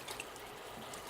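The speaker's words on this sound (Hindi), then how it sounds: "कुकर में आप पानी डाल दिया" Water trickles softly into a pressure cooker holding dal for a Rajasthani matar ki dal, a faint, brief pour heard alone up close.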